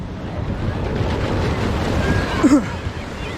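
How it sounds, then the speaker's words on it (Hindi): Ocean surf breaks against the floating bridge at Malpe beach, a steady loud wash of roaring water mixed with gusty wind buffeting the microphone, with a brief louder splash near the end. "बट यहाँ पे वेव्स बर्स्ट हो रहे हैं"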